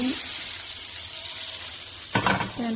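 Butter sizzles and fries steadily in a hot pan while pasta is being made, a continuous close hiss with a brief clatter of stirring near the end.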